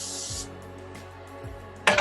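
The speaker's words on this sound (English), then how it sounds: "I'm gonna put some cooking spray in this pan because I have a feeling" Cooking spray hisses from an aerosol can into a 9 by 13 baking pan, with a short spray at the start and another burst at the end, over quiet kitchen handling sounds.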